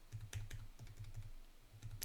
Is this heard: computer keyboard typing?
yes